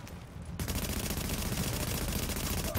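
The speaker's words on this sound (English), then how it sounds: "we could just shoot the canister on his back" Rapid automatic gunfire from The Division rattles in a dense, continuous burst after a brief quiet start, loud and close throughout.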